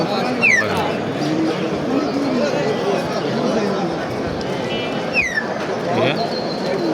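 Birds at a busy bird market, including a myna for sale, giving sharp whistled calls and cooing against a steady crowd murmur, with people talking nearby throughout.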